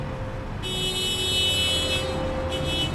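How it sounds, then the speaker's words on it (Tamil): Sustained, overlapping car horns blare continuously over a rumbling road din, one high tone joining partway through and dipping briefly near the end. "இடைவிடாத ஹாரன் ஒலி"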